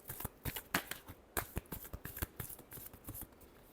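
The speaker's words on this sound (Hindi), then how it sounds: "last shuffle" A tarot deck shuffled by hand up close, a brisk series of papery flicks and soft slaps in an uneven rhythm, quiet and without any talking.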